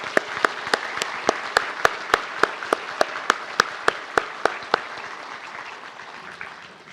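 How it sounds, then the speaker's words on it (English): Audience at a diploma graduation ceremony applauding the graduates, a dense steady wash of many hands clapping that fades toward the end, with sharp regular knocks or beats cutting through it. "Let us once again show our appreciation by giving our graduates a well-deserved round of applause for their remarkable achievements."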